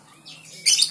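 A young straw-headed bulbul (cucak rowo), about two to three months old, gives a brief rising squeak followed by a sharper, louder squawking call, close by within about a second.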